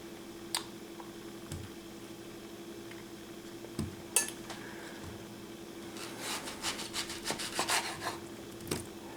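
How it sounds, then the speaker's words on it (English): A knife chopping onions for a roast on a cutting board: scattered single cuts at first, then a quick run of rhythmic, close chops near the end, fairly quiet. "How am I gonna just cut the onions and put them in the bag?"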